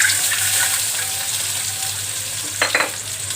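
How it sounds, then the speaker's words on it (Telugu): Halved eggs frying in half a teaspoon of oil in a pan, a steady close sizzle running throughout with a couple of brief clinks near the end. "ఈ ఆయిల్లో సగానికి కట్ చేసుకునే ఎగ్స్ని వేసేసుకున్నామండి"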